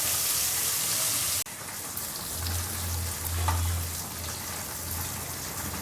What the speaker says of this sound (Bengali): তার জন্য মাছটা আগে ভেজে নিচ্ছি